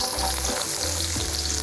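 Vegetable oil hisses and sizzles in a pan for leftover fried rice, a brief, close and even frying crackle with no voices.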